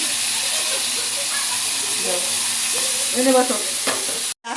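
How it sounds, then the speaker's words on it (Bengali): Chicken pieces seasoned with chili powder and salt fry in hot oil in a wok, giving a steady close sizzle with stirring scrapes and clinks throughout, then a brief cut near the end. "দেখছেন মাংসগুলা লাল লাল করে ভেজে নিয়েছি"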